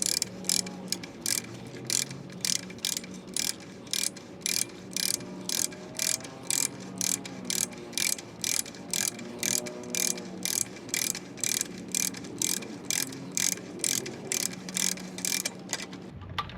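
Ratcheting wrench snugging the front axle nut on a Honda VLX 600 motorcycle, a steady run of crisp, evenly spaced clicks close up, repeating throughout with faint mechanical creaks beneath.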